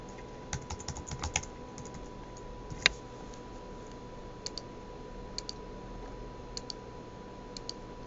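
Password typed on a computer keyboard while creating an account: scattered clusters of light key clicks, a burst near the start, then sparse isolated taps, with a steady electrical hum underneath.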